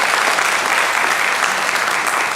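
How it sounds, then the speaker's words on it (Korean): A church congregation applauds during a Sunday morning service to welcome a returning visitor, with loud, dense, continuous clapping filling the room throughout. "우리 박수로 한번 환영하도록 하겠습니다."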